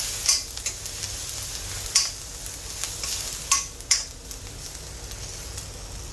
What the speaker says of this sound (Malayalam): എന്നിട്ട് നമുക്ക് നല്ലപോലെ വഴറ്റി കൊടുക്കാം, പച്ചമണം പോകുന്നത് വരെ.